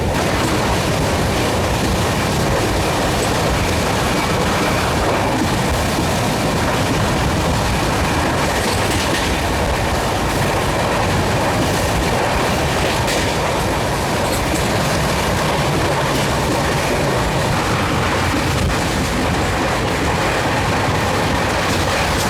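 Mandovi Express 10103 rolls along the Konkan railway during the monsoon, a loud, continuous roar of wheels and rushing wind heard from on board, with steady rumbling and no voices.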